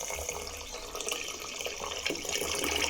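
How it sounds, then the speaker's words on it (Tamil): Water pours steadily into a pot of sago pearls, a soft continuous splashing that swells slightly toward the end, quiet and close with no voices. "இப்போ ஜவ்வரிசி முழுகிற அளவுக்கு தண்ணி ஊற்றிக்கிறேன்."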